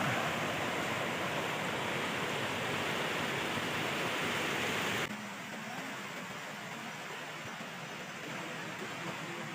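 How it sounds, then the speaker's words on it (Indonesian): Water rushes loudly along a river on a Mount Leuser trek in Sumatra, a dense, unbroken roar that drops to a slightly quieter, steady rush halfway through, with no voices over it. "Sungai kedua."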